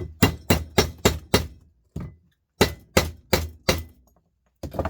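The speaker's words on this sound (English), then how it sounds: "at this one I'm going to hit it with a hammer" Sharp hammer blows on a metal part during scrapping ring out in two series of about five strikes each, with pauses between, close and metallic.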